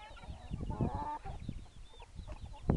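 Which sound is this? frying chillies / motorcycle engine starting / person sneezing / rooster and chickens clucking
rooster and chickens clucking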